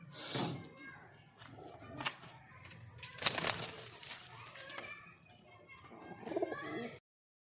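Soft cooing from a pair of baldy pigeons at close range, low throaty calls coming and going amid some rustling and faint background noise.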